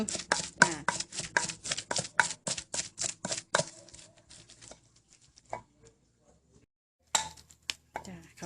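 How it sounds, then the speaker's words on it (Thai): Ingredients for a Thai mushroom soup are pounded to a mash, with a quick run of regular, close thuds followed by a pause and a few scattered knocks. "ทำแหลกเข้ากันแล้วก็จะได้ปรุง"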